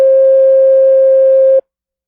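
A steady electronic guide tone meaning go straight: one flat, loud sustained beep lasting about a second and a half, then cut off into silence.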